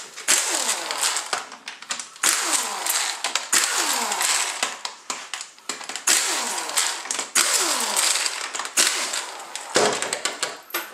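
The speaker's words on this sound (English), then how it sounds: "we're going to remove the 8mm bolts" A ratchet works loose the 8mm valve body bolts on a 45RFE transmission, giving loud, rapid, repeated clicking and metallic whirring in bursts across the whole stretch, close up and with no speech.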